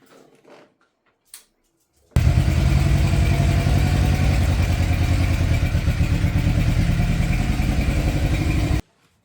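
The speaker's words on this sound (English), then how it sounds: "Start up the GSXR." Suzuki GSX-R sport motorcycle starting with its plastics removed: a couple of brief cranking bursts, then the engine catches and runs loudly at a steady, rough idle close by for several seconds before cutting off.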